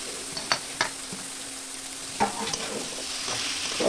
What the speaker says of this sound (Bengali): বাঁধাকপিটা দিয়ে ভালো করে নেড়ে চেড়ে নেব।